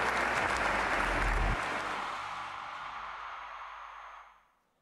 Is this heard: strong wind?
no